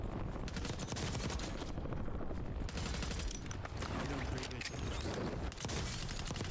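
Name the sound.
SMG gunfire in Warzone video game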